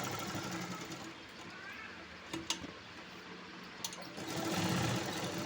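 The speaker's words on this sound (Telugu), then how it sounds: "అందుకని ఇలా 2 సార్లు స్టిచ్ చేసుకోవాలండి." A computerised sewing machine runs a stitching pass along a blouse, a steady, faint mechanical whir with a few small clicks, close by and without talk.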